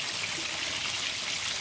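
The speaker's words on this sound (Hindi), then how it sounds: "और इसमें हम ऐड कर रहे हैं थोड़ा सा पानी।" Thin stream of water poured into a small amount of leftover fish batter, a steady soft trickle heard close and alone without talk.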